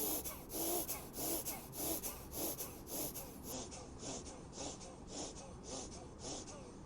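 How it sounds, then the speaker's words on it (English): Forceful yogic breathing, power yoga style, done many times in a row: quick rhythmic exhalations, roughly two per second, repeat steadily through a noisy background. "you can do power yoga through this breathing."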